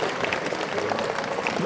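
A short burst of steady clapping from an audience at a departmental veterans' congress, dense and moderately loud throughout, with no voices standing out.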